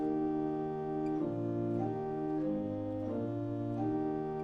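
A sustained 1930 Skinner church pipe organ principal stop playing chords with a moving pedal line, steady and full, with no voices.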